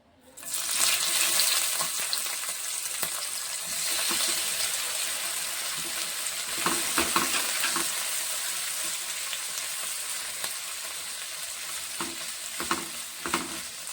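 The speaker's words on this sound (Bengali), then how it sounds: "চিংড়ি মাছটা নুন হলুদ মাখিয়ে আমি রেখে দিয়েছিলাম ভেজে নিচ্ছি" Prawns coated in salt and turmeric fry in a pan, giving a loud, continuous close sizzle that starts suddenly and holds steady, with occasional crackles and stirring knocks.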